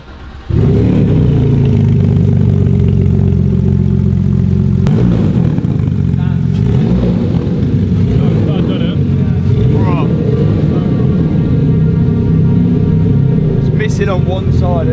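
A Porsche GT3 RS engine with a misfire and suspected camshaft fault idles loudly and close up, a steady low rumble with an uneven, lumpy beat that holds for the whole stretch after a sudden start, with light clicks toward the end.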